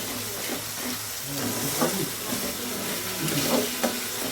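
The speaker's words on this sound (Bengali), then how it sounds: "তো এবার আমি দিয়ে দেবো এর মধ্যে টমেটো" Whole tomatoes go into meat already frying in oil in a pan, giving a steady close sizzle and hiss with a few brief stirring scrapes and bumps.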